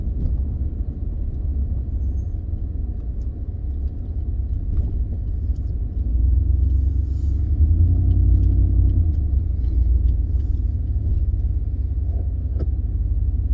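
2015 Ford F-150 with the 5.0 engine and a newly replaced throttle body being driven around the block, a steady low engine and road rumble heard from inside the cab that swells briefly partway through, with no talking.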